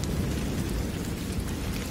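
Steady rain in a cartoon storm, a dense continuous wash of loud, rumbling noise with low thunder-like roar underneath, filling the scene without any voices.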